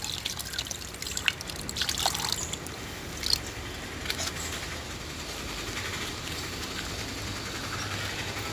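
Water trickles and splashes over a bicycle during washing outdoors, a steady low wash of running water with a few sharper splashes early on, then settling into an even flow.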